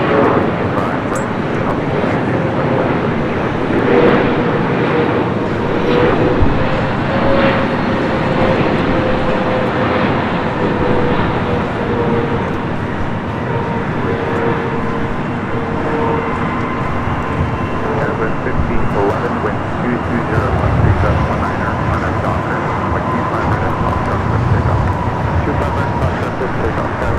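An American Airlines Boeing 737-800 bound for Las Vegas rolls at Los Angeles LAX airport, its jet engines producing a sustained, drifting whine and roar with a voice talking over the noise throughout.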